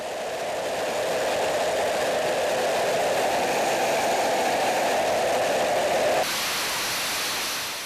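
A loud, steady fighter jet engine roar during a test run in a test cell holds constant, then shifts to a harsher, brighter rush near the end; no speech.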